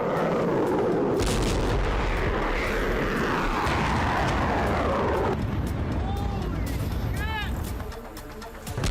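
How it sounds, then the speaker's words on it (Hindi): Iranian missiles exploding over Israel during a night attack, captured from a ship: a loud, continuous roar of booming blasts and rumble, with high whistling tones and faint voices near the end. "इजराइल पर बीती रात लगातार हमले होते रहे और मिसाइलों के धमाके होते रहे।"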